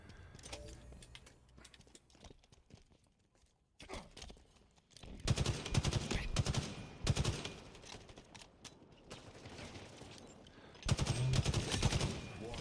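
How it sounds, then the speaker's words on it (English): Needler fire in Halo Infinite, bursts of rapid gunfire in uneven clusters, loudest in the second half, with game noise between volleys. "He's shooting at that guy with a needler."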